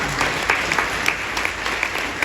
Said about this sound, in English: let's give up a round of applause for you all for being here today